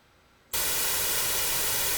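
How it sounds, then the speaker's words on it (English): White noise from a modular synthesizer routed through a VCA cuts in abruptly after half a second of near silence, then holds as a loud, steady, full-band hiss. "It's white noise. Not pleasant."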